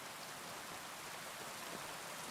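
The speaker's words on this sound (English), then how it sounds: "It stopped raining now, the rain has come back." Steady rain from the video game Kingdom Come: Deliverance 2, a soft, even hiss of falling drops that stays constant throughout at low volume, with no talking over it.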